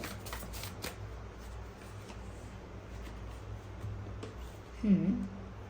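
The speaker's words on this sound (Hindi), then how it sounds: "चलिए एक कार्ड और लेते हैं इसी डेक से।" A deck of tarot cards is shuffled in quick riffling bursts, soft and close, with a brief voice near the end.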